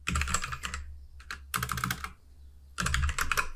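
Rapid bursts of clacking keystrokes on a computer keyboard as JavaScript code is typed into VS Code, close and crisp, in three quick clusters separated by short pauses.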